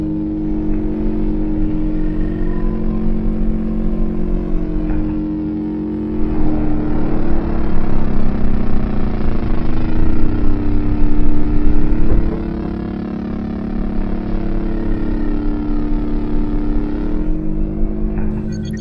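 A sci-fi spacecraft engine starting up, a loud steady mechanical drone that swells and intensifies partway through, then settles back to a constant hum.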